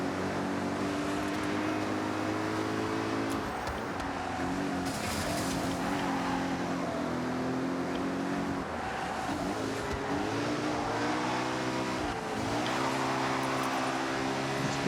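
A BMW drifting through a twisty street race in Forza Horizon 6, its engine roaring loud and steady throughout with rising and falling revs as it slides, plus faint tire squeal.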